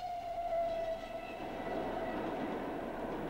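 A train rumbles past with a steady low roar and a brief high tone early on, fading slightly as it continues, heard at moderate distance.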